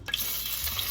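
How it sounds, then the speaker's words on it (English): Chicken pieces dropped into hot, flaring cooking oil for brown stew chicken, giving a steady close sizzle with bright crackle and a brief stirring rustle at the start. "So as you can see, the oil is hot, guys, because it's flared up. So I'm gonna go ahead and add the chicken."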